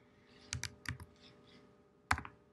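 Typing a search on a computer keyboard, a few quick clustered keystrokes, a short pause, then a final sharp key press, faint and close.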